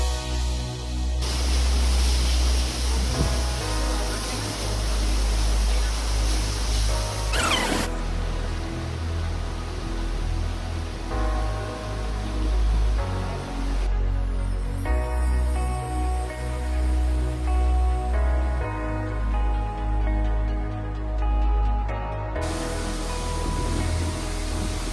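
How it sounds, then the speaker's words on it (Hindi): Choi waterfall in Jibhi, Himachal, roars as a steady, broadband rush of falling water, constant and loud throughout with a few abrupt shifts in level. "वाटरफॉल"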